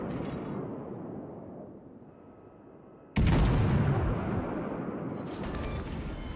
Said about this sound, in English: we open fire once more, with the Leander sailing perfectly broadside